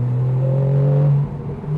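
Porsche 911 Carrera GTS (991, 2015) in sport mode, its engine giving a loud, close, low droning burble that holds steady, then drops off briefly before picking up again.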